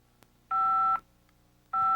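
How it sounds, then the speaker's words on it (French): Keypad tones from a cellular car-to-car telephone, two steady dual-pitch beeps, the first about half a second long and the next starting after a short pause, close and clean. "To place a call, enter the telephone number."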